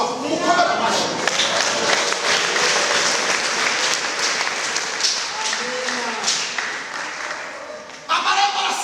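Sustained applause from a church congregation during a choir worship service, steady and dense clapping filling the room for several seconds, with voices faintly mixed in and a brief rise near the end.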